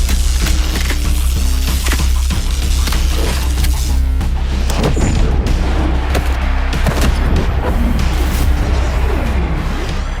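Heavy booming blasts from a powerful cannon in an animated martial-arts fantasy battle, loud and repeated over a dense, rumbling background of impacts and crashes, with no talking.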